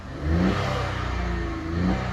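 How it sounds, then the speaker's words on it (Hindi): A Maruti Brezza's 1-litre turbocharged three-cylinder petrol engine, manual version, fires up and settles into a steady, slightly throbbing idle, heard close and loud with a small rise in revs near the start and end. "एक बार स्टार्ट करके भी आपको दिखा देता हूँ कि वाइब्रेशंस जो हैं वो किस तरह की आपको मिलती हैं।"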